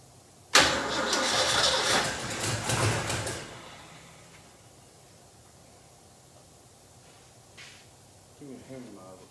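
A car engine cranks and catches with a loud burst, runs roughly for a few seconds and then settles to a quiet idle, with people talking nearby.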